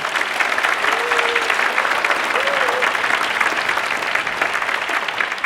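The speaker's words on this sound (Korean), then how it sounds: "여러분 박수 한번 부탁드립니다." Loud, sustained audience applause at a wind orchestra's regular concert in Jinju, a thick even clatter of many hands with a few faint vocal sounds underneath.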